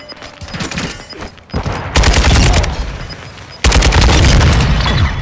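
Rapid bursts of gunfire in Call of Duty Modern Warfare 2 free-for-all multiplayer, loud and close, with a sustained volley midway and another dense burst near the end.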